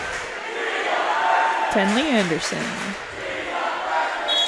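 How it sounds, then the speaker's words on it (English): Crowd cheering for a player at a girls' varsity volleyball match in a gym, a steady roar of voices with a rising chant, heard under a commentator speaking. "We haven't heard that cheer yet tonight."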